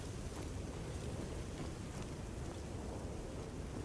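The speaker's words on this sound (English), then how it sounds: "Now it's raining." Rain falls in the dark fantasy first-person shooter Witchfire, a dense, steady wash of downpour with a low rumbling undertone, constant and unbroken throughout, with no voices.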